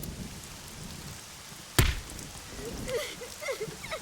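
Soft rain patters in the video game AI: The Somnium Files, steady and low, broken by one sharp loud impact and followed by faint scattered game sounds over the rain.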